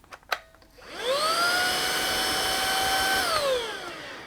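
A Lubluelu TPH06 cordless vacuum cleaner switches on after a couple of clicks, spins up to a steady high whine for about two and a half seconds, then winds down, loud and close with no talk.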